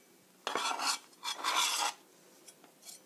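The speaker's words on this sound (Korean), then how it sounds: "이렇게 다져 주시고요" Kitchen knife mincing onion on a cutting board, two dense bursts of rapid rasping chops followed by a few lighter scattered taps, close and alone.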